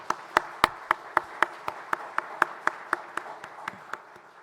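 A congregation at a Sunday morning worship service in a military university church claps for the choir in a steady, evenly spaced rhythm of sharp hand claps that gradually grows softer.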